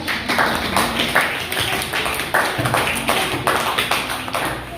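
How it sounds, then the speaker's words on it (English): A small audience claps after a speech at an Independence Day celebration, uneven separate hand claps at close range that swell and fade in bursts. "Let's give her a big round of applause."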